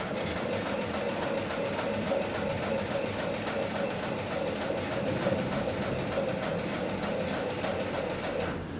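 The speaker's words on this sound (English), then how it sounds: "I'm going to set my foot back down, and I'm going to continue sewing" An industrial sewing machine stitching heavy lifting sling webbing runs in a fast, even mechanical chatter, loud and close, with a steady motor hum beneath the rapid needle strokes and no pauses.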